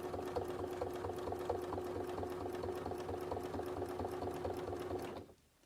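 A sewing machine stitching appliqué on textiles, a steady rapid needle rhythm humming close up for about five seconds before stopping abruptly.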